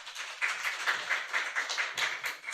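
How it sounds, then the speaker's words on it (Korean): A church congregation at a revival service applauds. The clapping is steady and fairly rhythmic, moderately faint and somewhat distant, with no voices over it. "박수로 이 자리에 다시 모시겠습니다."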